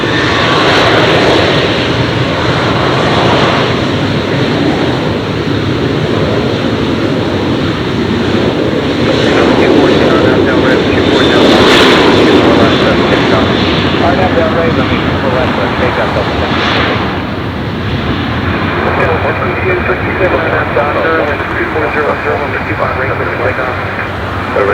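A jet airliner passes at Los Angeles International Airport, a loud, sustained broadband roar that swells and fades over about 25 seconds, with air traffic radio chatter underneath.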